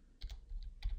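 A handful of quick, soft keystrokes as a command is typed on a computer keyboard, faint and close, with no other sound.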